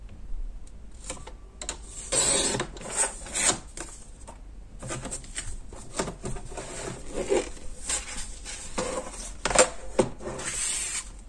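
Paper being cut for a Christmas scrapbook mini album with photo pockets, heard as close, uneven rasping and rubbing strokes in short bursts with small taps between, steady and fairly quiet, no talking.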